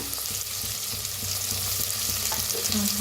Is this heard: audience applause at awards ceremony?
no